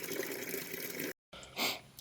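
Coolant running out of a diesel generator's radiator into a bucket, a continuous splashing, gurgling flow that cuts out briefly and then returns in short, uneven gushes.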